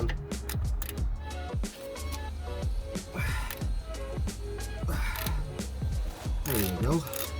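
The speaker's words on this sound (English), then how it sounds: "So the 1/2-inch ratchet really helps" A half-inch ratchet loosens the brake caliper bolts on a Jeep SRT during a brake pad and rotor job, giving repeated clicking bursts and metallic clatter close by in a busy garage.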